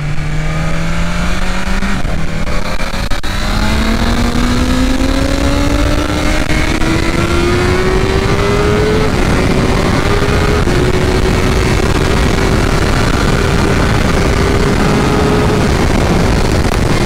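A BMW S1000RR M package motorcycle accelerating hard at Interlagos, its loud engine whine climbing steadily in pitch through the gears over strong wind roar.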